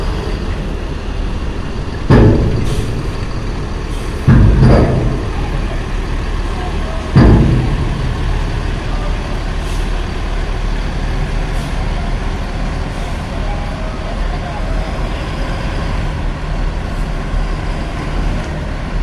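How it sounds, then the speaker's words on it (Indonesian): Buses roll onto the KMP Legundi ferry at the dock amid a steady heavy engine rumble, with three sharp air-brake hisses in quick succession near the start, loud and close. "Oke, ludes bus yang ada di parkiran ya. Masuk semua di KMP Legundi."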